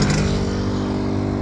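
A WSK two-stroke motorcycle rides past close by, its engine a loud continuous buzz that holds steady through the short moment.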